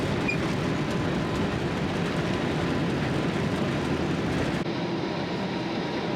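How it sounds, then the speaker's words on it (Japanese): Steady broadband cabin roar of an airliner climbing through cloud after takeoff from Haneda, a continuous loud rumble with no talk, easing slightly near the end. "離陸したんですが、雲の中はずっとこんな感じです。"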